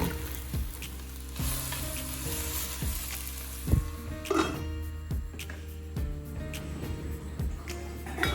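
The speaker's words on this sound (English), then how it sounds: "Sauteed chopped onion and curry leaves in coconut oil. Added crushed red chilies and then cooked the sliced bitter gourd." Sliced bitter gourd sizzling in coconut oil with chopped onion, curry leaves and crushed red chilies, a close, steady frying hiss broken by scraping stirs and spatula knocks against the pan.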